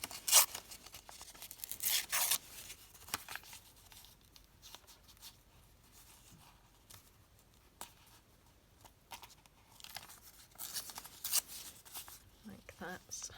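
Paper being torn by hand for a collage, several short close ripping bursts at the start and again near the end, with quieter rustling and a voice talking in between.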